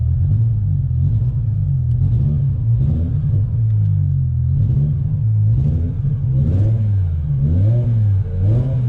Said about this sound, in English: If we go revving on it to clean them plugs off